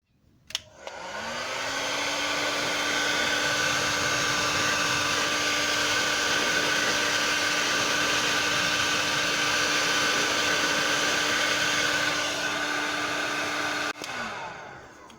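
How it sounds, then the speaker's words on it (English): A heat gun whines steadily at full power for about thirteen seconds while warming a part of a diff breather kit being fitted to a Gen3 Suzuki Jimny, starting with a click and winding down at the end. "In fact I will, I'll get the heat gun out."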